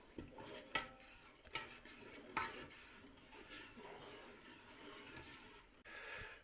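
Sugar being stirred into bramble jelly in a pot, with soft scraping and clinks of a utensil against the pan, a few sharper knocks, over a low bubbling background.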